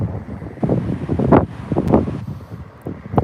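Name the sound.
wind blowing on Walcott beach, north Norfolk coast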